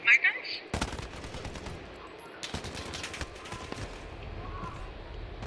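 Rapid gunfire from a new meta gun in a video game, with repeated bursts of shots and sharp broadband crackles running under a steady busy background.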